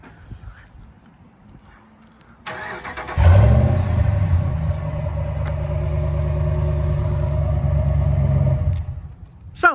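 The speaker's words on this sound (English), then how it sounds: "Nice sounding exhaust." A 2017 RAM 1500 Sport 5.7L HEMI 4x4 pickup starts by remote with a quick crank and catch. It settles into a deep, steady factory-exhaust idle rumble, heard close and loud, that fades near the end.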